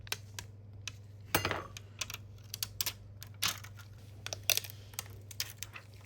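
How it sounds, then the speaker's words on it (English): Adhesive layer being peeled off a Samsung Galaxy S23 battery during a battery replacement: a close series of sharp crackly ticks and snaps, with one longer tearing burst, over a low steady hum. "we can peel off this top layer of it"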